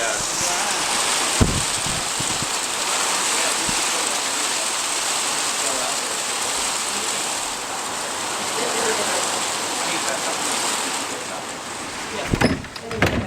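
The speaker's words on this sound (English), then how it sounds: "That's hail, isn't it?" Hail falls outside in a steady, dense hiss of hard pellets hitting surfaces, loud and continuous throughout with a few knocks and handling noises near the end.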